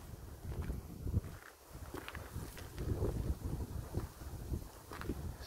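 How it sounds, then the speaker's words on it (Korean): Mountain wind gusts through a remote valley near Taebaek, a steady, rumbling rush with buffeting against the microphone and a few soft footstep-like rustles, with no talk. "산바람이 불어 지나가는"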